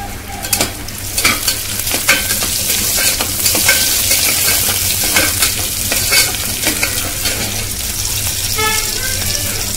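Onion, tomato and garlic frying and being stirred in a pan for mutton kulambu, a steady close sizzle with scraping spoon strokes throughout and a few brief clinks near the end.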